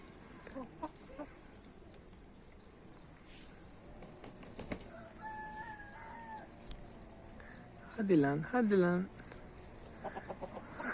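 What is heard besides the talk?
rooster crowing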